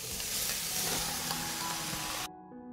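Meat frying in olive oil in a pan alongside onions and carrots makes a dense, continuous close sizzle that cuts off abruptly near the end, leaving a quiet hum.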